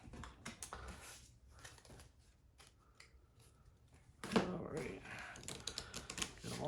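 A deck of wrestling-themed card game cards shuffled up close, with rapid riffling and crisp slapping bursts, a brief pause, then a louder flurry of shuffling toward the end.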